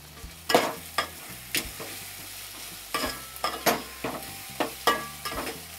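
Potatoes and masoor dal are stirred in a pan as a spoon scrapes and clanks in irregular bursts over a soft cooking sizzle, close up with no voices.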